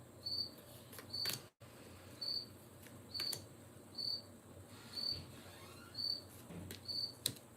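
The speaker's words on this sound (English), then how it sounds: "That cricket is fucking driving me crazy." A cricket chirps in short, regular bursts about once a second, steady and fairly close, against a quiet indoor background with no talking.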